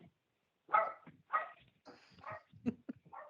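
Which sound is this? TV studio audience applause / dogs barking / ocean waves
dogs barking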